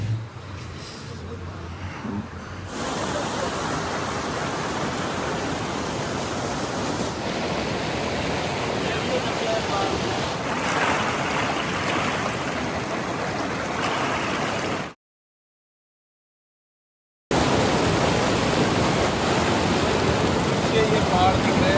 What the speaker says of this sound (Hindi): पानी की आवाज़ इतनी ज़्यादा है